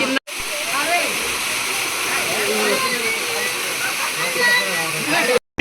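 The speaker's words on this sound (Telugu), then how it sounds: "ఎలాగ ఫ్లో అవుతున్నాయో వాటర్" Water pours steadily down a waterfall at Aluru Kona Ranganayaka Swamy temple, a loud continuous rushing roar with faint voices mixed underneath, cutting off abruptly at both ends.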